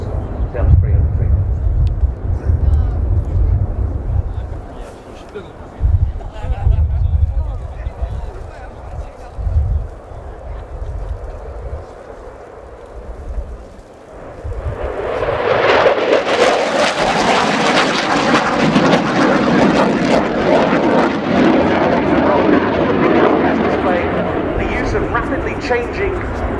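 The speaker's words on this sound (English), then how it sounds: "a reposition for a fly through at 350 knots down to 300 feet" A Swedish Air Force JAS-39C Gripen jet flies a display at an air show, first as a distant rumble beneath a commentator, then roaring loudly as it passes close and fades into a long, broad jet roar.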